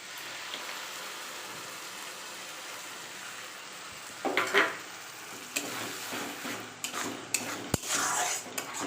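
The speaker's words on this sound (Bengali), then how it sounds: "এটা নাড়তে থাকতে হবে যতক্ষণ না এটা একটু কষা হচ্ছে" Masala for matar paneer stirred in a pan over a steady sizzle, with a spoon scraping and clanking against the pan in irregular strokes that grow busier toward the end, close and without speech.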